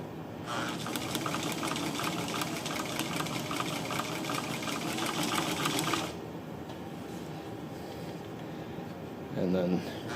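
Sewing machine stitching a zigzag during a timing and stitch test, a fast buzzing whir that runs steadily for about six seconds then stops, followed by a short mechanical clunk near the end.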